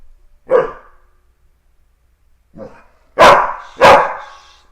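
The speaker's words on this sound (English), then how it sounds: "Let's have the quiet barks" A dog barks four times: a single bark, a softer one after a pause, then two loud sharp barks close together, near and punchy.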